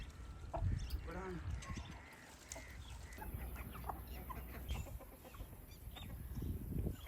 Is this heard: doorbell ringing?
no